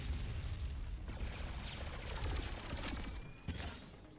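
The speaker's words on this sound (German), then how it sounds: "Die Feuerrate auch von meinem komischen Gewehr hier ist voll abartig." Rapid rifle fire in the co-op shooter Alienation, heard as quick repeated bursts of shots with a few heavier booms mixed in. It sits at a fairly low level throughout and has no talk over it.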